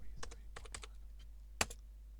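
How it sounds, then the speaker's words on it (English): Keystrokes on a computer keyboard during a Windows 3.11 install, a few quick scattered taps in small bursts with one sharper louder press near the end, close and alone over a quiet background. "when I typed in,"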